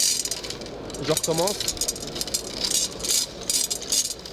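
Coins rattle and clatter in quick bursts against a Motorola Defy Mini phone, with someone speaking briefly at the start.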